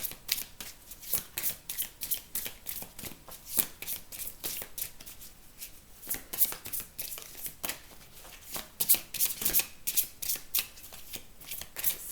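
Oracle cards being shuffled by hand, a steady run of crisp riffling slaps and flutters for the whole stretch, close and fairly quiet, with no talking.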